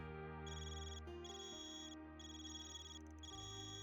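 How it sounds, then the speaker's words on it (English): Zypha phone ringing in the Trails Beyond the Horizon video game, a steady electronic ringtone of repeated high tonal pulses over a sustained lower tone, with no talking. "Man, your Zypha's ringing."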